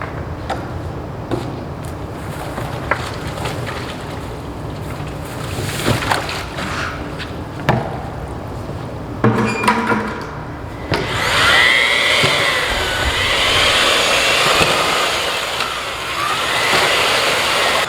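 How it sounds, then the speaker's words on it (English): Concrete countertop mix is added to a mixer: bag handling thumps and rustles come first, then a loud, steady churning whir of the paddle mixer working the wet concrete fills the rest. "Okay, so I'm putting our concrete in now."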